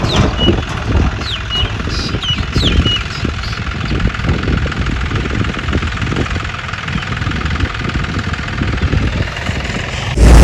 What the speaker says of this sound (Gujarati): ટ્રેક્ટરની એન્ટ્રી કરી આપણા ખેતરમાં.